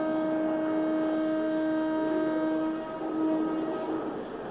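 The Guruvayur–Madurai Express, newly fitted with LHB coaches, pulls away from platform 3 at Guruvayur in the early morning. A steady, droning mechanical tone holds throughout with a slight dip partway, and no voices.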